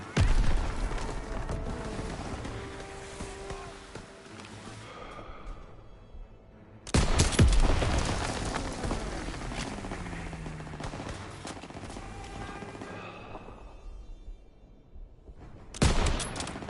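Gunfire in Call of Duty WWII: loud, dense bursts of shots and booms that come in three waves and fade between them, with no talk.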